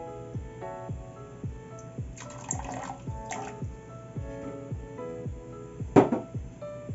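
Water pours from a tap into a pot holding celery and carrots, a steady splashing stream with rhythmic gurgles, close by and fairly quiet.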